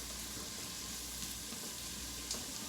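Vegetables sauté in a hot pan with a soft, even sizzle that runs throughout, plus a single faint clink near the end and no voices.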